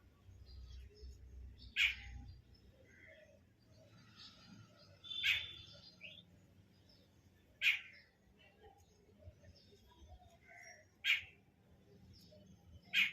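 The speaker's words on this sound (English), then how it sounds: "Some bird is like calling me" Bird calling outdoors, five sharp, distinct calls spaced a few seconds apart over a low background rumble, fairly faint and with no one talking.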